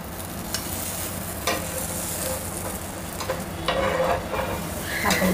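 Cheese tacos fry in a hot pan, giving a steady loud sizzle broken by a few sharp clinks and scrapes of a spoon against the pan, no talking.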